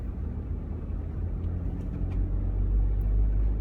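A car drives a forest park road toward the Bernheim Forest trailhead, its engine and tire rumble a steady, low interior drone that grows slightly louder toward the end.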